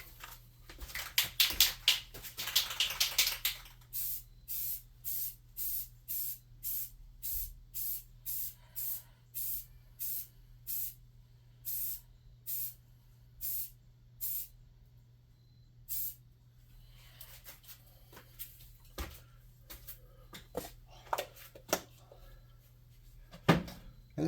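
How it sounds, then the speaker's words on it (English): Black spray paint hisses from a rattle can in a long burst, then in a steady run of short, evenly spaced sprays, followed by scattered clicks and handling noises; no talking. "is just quickly hit it with a black rattle can"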